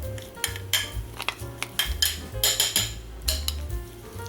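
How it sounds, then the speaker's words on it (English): A spoon scrapes and clinks through watermelon ice slush in a bowl, giving close, gritty strokes in an irregular rhythm with occasional sharper taps against the rim. "Mix it all around."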